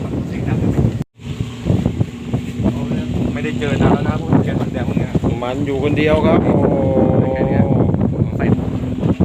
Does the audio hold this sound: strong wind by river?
yes